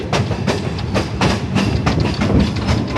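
A train ride with rapid, regular clickety-clack of wheels over rail joints, loud and close, rumbling steadily throughout with no talk.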